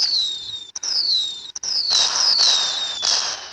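Roblox Meep City New Year fireworks, a string of shrill descending whistles repeating every half second or so, each followed by the next in quick succession, growing fuller and more layered toward the end with no voices.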